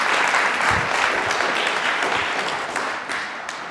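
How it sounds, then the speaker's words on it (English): Steady audience applause at an art gallery show, a dense wash of many hands clapping at close range that fades a little toward the end. "give them a round of applause"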